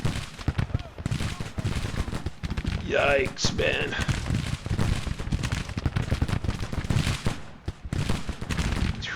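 Dense continuous musket gunfire and booming cannons in a Civil War battle video game set in Arkansas, a loud rolling fusillade throughout, with a man briefly exclaiming over it.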